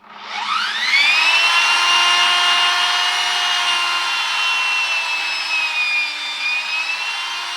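A Bosch wall and ceiling sander with a vacuum attached spins up from rest into a loud, steady whining hum with a high tonal edge, holding close and constant with slight speed wavers and no talk.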